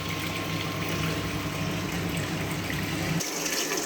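Water pours into the volumetric tank of a pipe friction apparatus as a steady, dense rushing gush that cuts off abruptly near the end. The flow is close, with no talk over it.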